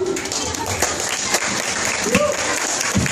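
Wedding guests applaud a couple's entrance and first dance at the reception. The clapping is dense and lively, with a few whoops and voices rising above it.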